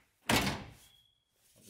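Car door on a VW Caddy being refitted: a single solid thunk as it is pushed into place, fading into a short rattle, then quiet with a faint shuffle at the end, no talking.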